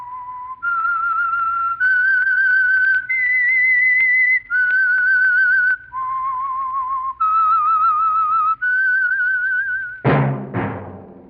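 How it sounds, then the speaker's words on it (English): A clear, sustained whistled radio theme tune of long held notes stepping up and down, loud and close, ending with a sharp struck accent. "That whistle is your signal for the Signal Oil Program"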